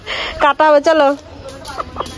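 A home-raised country hen, about to be slaughtered at a family house, lets out a few short clucking bursts up close, mixed in with people talking nearby.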